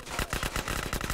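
Rapid automatic gunfire from the GTA San Andreas video game, a dense run of loud, evenly spaced shots filling the whole stretch without talk.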